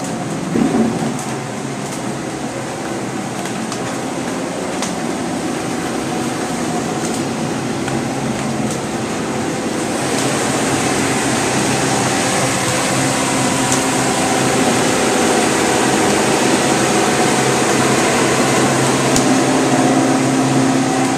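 Steady mechanical whir and hum from a running micro-hydro water turbine in a powerhouse in Pathanpara, Kerala, continuous and fairly loud, with a broad rushing layer like flowing water underneath.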